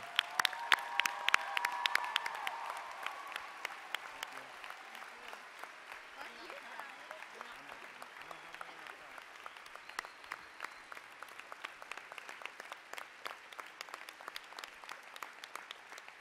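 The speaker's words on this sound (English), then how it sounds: "we want to conclude our speech by giving Trina a standing ovation" A standing ovation for Trina at the DCON 2014 closing ceremony: a hall full of people applauding steadily with dense, sustained clapping, a few cheers rising at the start before the applause carries on alone, loud and close.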